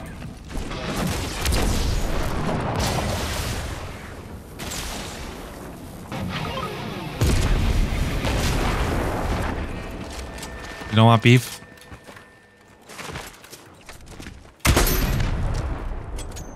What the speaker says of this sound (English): Iron heavy impact sniper. Okay, how does this thing even shoot?